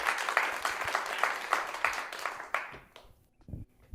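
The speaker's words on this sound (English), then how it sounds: "Big round of applause for Missy." A small group claps in a round of applause for about three seconds, the clapping thinning out and fading as it ends.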